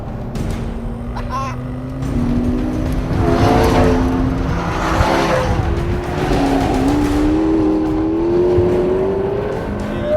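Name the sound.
McLaren P1 engine accelerating on test track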